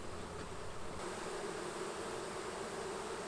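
Honey bees hum in a steady, dense, close buzz at an opened hive, a continuous swarm drone with no voices over it.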